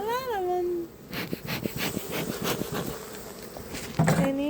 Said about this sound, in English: There's a lot of them.